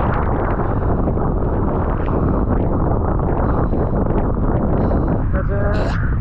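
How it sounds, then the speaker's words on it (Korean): Strong rainstorm wind buffets a cyclist on a Mediterranean coastal route in southern Türkiye, a loud, continuous roaring rush that batters the microphone throughout, with a brief higher whistle near the end. "바람이 너무 세서 핸들바 컨트롤이 안 돼가지고 위험해서 내렸습니다"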